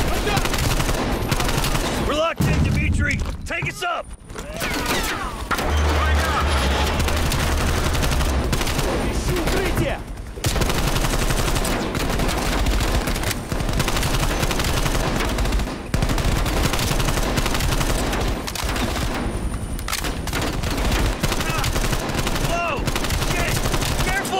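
Dense gunfire in Call of Duty Black Ops Cold War, rapid machine-gun bursts and overlapping shots filling the scene almost continuously, loud and close, with people talking under the shooting.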